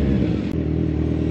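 A Kawasaki Z1000 motorcycle idling and revving gently as it is maneuvered into a parking spot, a loud, close, steady engine rumble with a brief dip in the middle.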